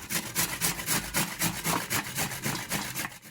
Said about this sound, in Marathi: सगळे आवळे मी अशाच पद्धतीने किसून घेते इथे